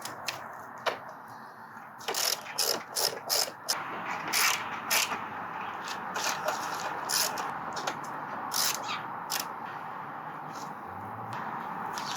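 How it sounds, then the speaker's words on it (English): Bolts are screwed back into the plastic body panels of a 1994 Suzuki Katana motorcycle, giving small ratcheting clicks and creaks in irregular bursts over a steady background hiss. "Screw back in the plastic."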